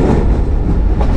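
The Thall Express runs along the rails through tunnel country, a loud, steady, close rumble of wheels and carriages with a faint rhythmic clatter and no voices.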